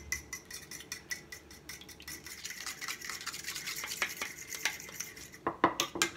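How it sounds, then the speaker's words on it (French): A fork whisks salted eggs into an egg wash for cordons bleus, making rapid, rhythmic clicks and scrapes against a bowl, close and fairly crisp, with a few sharper taps at the finish. "Et je mélange avec une fourchette, surtout pas avec un fouet."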